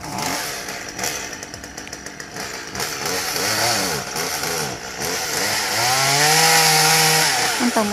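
A chainsaw cuts through a small coconut tree heavy with fruit beside a fish pond, the engine droning steadily and rising to a strained whine as the blade bites, loud and close throughout.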